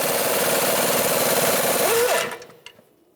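A 22mm socket on a power tool tightens the strut nut on a Ford Explorer front strut and spring assembly, one steady buzzing whir for about two seconds before it cuts off. No one speaks.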